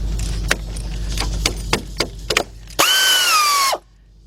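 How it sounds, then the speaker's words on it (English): Air ratchet with a 14mm shallow socket on a 3/8 drive backing out rusty caliper bolts on a 2013 Jeep Patriot, a series of sharp clicks and knocks followed by one close, loud, whining burst of the tool lasting about a second. "I'm using my 14mm shallow socket 3/8 drive with my air ratchet"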